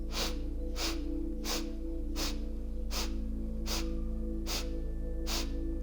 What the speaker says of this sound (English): we'll begin that inhale and exhale through a sniff